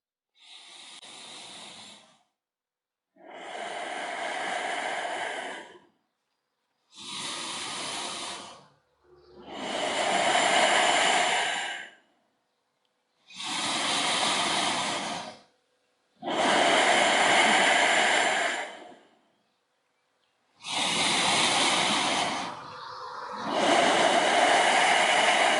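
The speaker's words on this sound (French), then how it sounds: "Plus la respiration est sonore, plus la sangle abdominale est tenue." Loud yogic breathing with the abdominal belt held in, eight long noisy breaths in a steady rhythm, each a few seconds of rushing air separated by short silences, close and alone with no talk.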